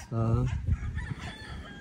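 A rooster crows loudly and close by on a chicken breeding farm, one strong rising-and-falling call with clucking from other chickens and a voice talking under it.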